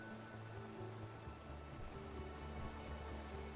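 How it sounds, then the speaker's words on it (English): Rain in the farming sim game Clanfolk, a steady soft patter with a constant low hum and faint music-like tones beneath, quiet and even throughout. "unless you guys love hanging out in the rain"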